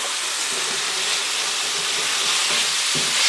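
Garlic greens, walking onion greens and lamb's quarter frying in a pan, a loud, close, steady sizzle with a few soft stirring knocks and scrapes beneath it.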